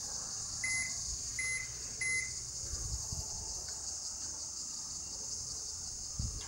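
A microwave oven hums steadily while heating garlic bread wrapped in tin foil, with three short electronic beeps near the start and a few faint thumps over the quiet drone.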